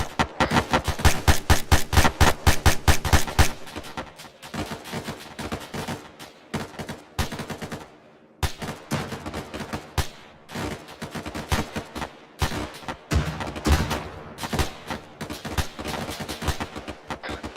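Rapid gunfire crackles in the military shooter Arma 3 during a squad training exercise, dense bursts of close, loud shots with brief pauses between volleys, no talk over it.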